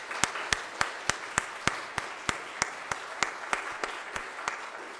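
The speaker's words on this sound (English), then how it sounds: "I hope you will join me in giving all of them a round of applause." Sparse, steady clapping from a church congregation during a Lutheran Sunday worship service, the individual claps sharp and evenly spaced over a faint room hum with no voices.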